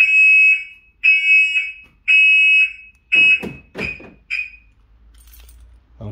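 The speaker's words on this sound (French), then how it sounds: "On entend bien les 2 bips d'ouverture." A Volkswagen Polo 9N3 car alarm sounds a series of loud, evenly spaced electronic beeps, followed by shorter chirps mixed with rattling keys, all close by.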